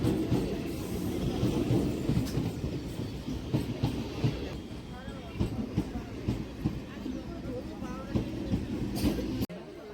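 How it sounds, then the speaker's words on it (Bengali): A local passenger train rumbles into a station, its heavy low clatter rolling continuously beneath the voices of people talking nearby. "দশটা দশের ট্রেন এই ঢুকছে সাড়ে দশটায়"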